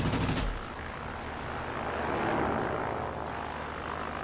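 A Bristol Type 146 fighter in the World of Warplanes game drones with a steady propeller-engine roar, and a short rattle of gunfire opens the stretch before the engine carries on alone.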